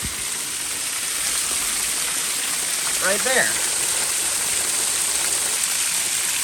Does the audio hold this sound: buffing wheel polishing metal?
no